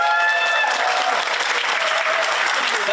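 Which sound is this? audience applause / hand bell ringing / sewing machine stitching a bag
audience applause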